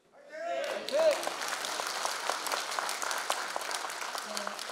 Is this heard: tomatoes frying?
no